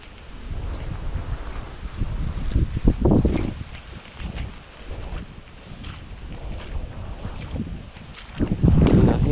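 Strong wind buffets the microphone in low, roaring gusts that swell and fade, with a heavier blast near the end; no voices.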